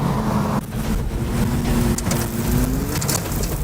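Rain arrives during a tornado-producing storm, a dense, steady hiss and patter with a low engine-like drone and brief crackles, loud and unbroken throughout.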